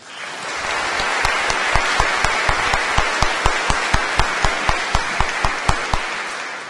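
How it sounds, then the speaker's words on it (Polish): A large audience applauds at a literary award gala, a dense wash of clapping that swells quickly and holds steady. Several louder individual claps stand out in a regular rhythm near the end. "Bardzo proszę, szanowni Państwa, o brawa dla tych ludzi i dla tych organizacji."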